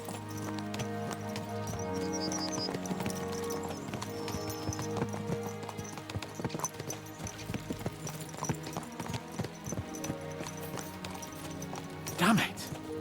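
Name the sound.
horses galloping in video game Kingdom Come Deliverance 2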